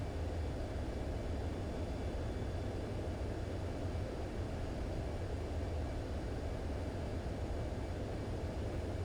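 An airplane engine in a video game gives a continuous, dense, loud drone that holds steady throughout with no talking over it.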